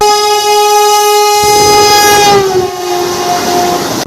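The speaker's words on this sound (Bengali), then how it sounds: "আমাদেরকে এবার ওভারটেক করবে 2805 গোলতলা থেকে হাওড়া বন্দে ভারত এক্সপ্রেস" A Vande Bharat Express to Howrah overtakes on an adjacent track, sounding a long, loud, sustained horn that shifts in pitch as it passes, over the rumble of rail travel.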